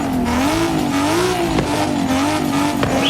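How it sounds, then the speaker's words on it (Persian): BMW M3 GTR with a factory turbo and race-built valves and cylinder block, revving loudly and steadily, its pitch rising and falling in waves over about three seconds, with no talk. "توربو فابریک این صدا رو میده."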